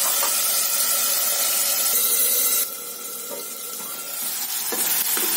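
Tomatoes with fasting salt cook in a covered pan, giving a steady, close hiss and sizzle that drops slightly in level partway through, with faint clinks near the end.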